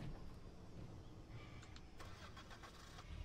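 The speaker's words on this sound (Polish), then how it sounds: "Odpalaj ten silnik." A car engine in the zombie game Dead Island cranks and catches, rising into a rough running rumble with a few clicks over a steady low game-ambience drone, moderately loud and with no talk.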